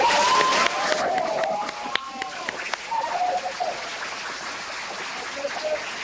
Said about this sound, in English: Everybody give a big round of applause to Jason of Unanchor.